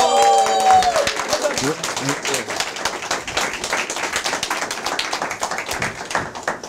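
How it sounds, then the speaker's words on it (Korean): An audience claps to welcome a lecturer at a Korean talk show event, with a burst of sound at the start followed by brisk, steady clapping that carries on to the end. "큰 박수와 환호로 맞이해 주시기 바랍니다"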